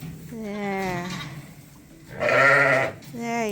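Sheep on a farm bleating close by, with several wavering bleats that come and go across a few seconds, clear and fairly loud, with a mother and her lambs nearby.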